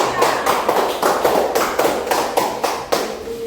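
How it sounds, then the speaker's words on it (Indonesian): Students in a classroom applaud a presenting group, a brisk burst of many hands clapping together at close range that holds steady and dense throughout. "beri aplaus dulu untuk kelompok 3"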